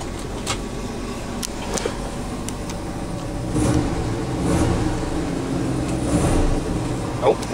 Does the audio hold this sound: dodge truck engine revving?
yes